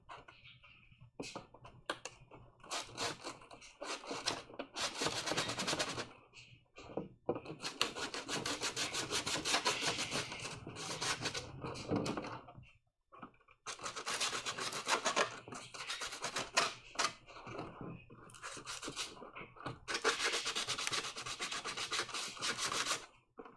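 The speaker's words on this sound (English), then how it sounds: "I'm actually sanding around the perimeter where these back boxes are gonna" Resin armor parts hand sanded around their edges, a steady rasping scrub in long bursts with brief pauses between, close and continuous with no talk.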